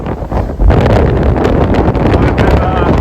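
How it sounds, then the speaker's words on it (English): Strong, gusting wind batters the microphone at a trig point high in the Scottish mountains, a loud continuous roar with heavy low buffeting throughout and no voices. "This is definitely some of the strongest winds I've experienced at the top of a hill."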